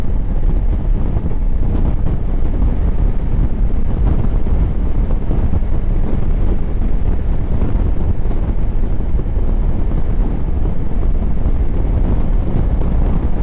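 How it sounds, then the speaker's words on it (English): Heavy wind buffeting roars constantly against the microphone while riding a 2024 Honda Africa Twin DCT ES motorcycle, a loud, unbroken low rumble with no voices heard. "I can feel actually buffeting coming from the side of the windscreen"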